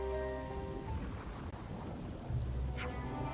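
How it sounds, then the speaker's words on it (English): Steady heavy rain pours down with rolling thunder in the video game Xenoblade Chronicles 3. A dense, continuous wash of rainfall sits under low rumbles, and a louder crack of thunder comes near the end. "It's actually raining."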